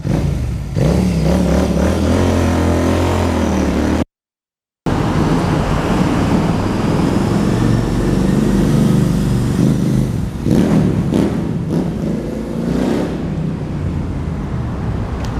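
A Royal Enfield Interceptor 650 motorcycle with a 19-inch front wheel idles and revs through its exhaust, a soft, mellow rumble close by that swells in a few throttle blips, broken by a short gap of silence.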